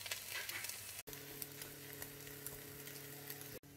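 Bread-coated rolls sizzle steadily in a small frying pan on a home stove, a close, continuous crackling fry with two brief dropouts and no talk.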